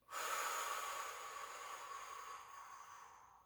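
A single long exhale during a calming breathing exercise, a close, airy rush of breath that starts abruptly and fades slowly over a few seconds, with no talking.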